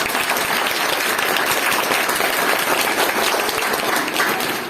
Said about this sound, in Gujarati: પહેલાં તો તમે બધા તાળીઓ પાડો